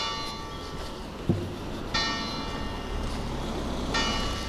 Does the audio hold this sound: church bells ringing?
yes